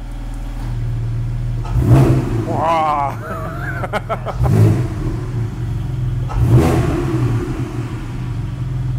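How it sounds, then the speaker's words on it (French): A Bentley engine revs several times with exhaust valves closed, in muffled, throaty bursts, with a steady idle rumble between them and a person exclaiming briefly. "tu es avec les valves fermées, qui fait déjà un beau bruit"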